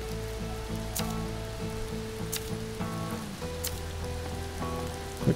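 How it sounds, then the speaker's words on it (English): Steady rain patters over a soft hiss with occasional sharper drops in the video game Mr. Prepper, accompanied by quiet looping game music tones in the background. "Ah, it's raining."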